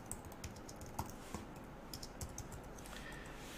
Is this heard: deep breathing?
no